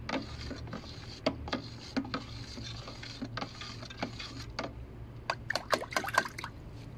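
Nutrient solutions A and B being mixed into water in a 20-litre bucket: gentle sloshing and trickling water, building into quicker splashy patters and drips toward the end, heard close with no voices.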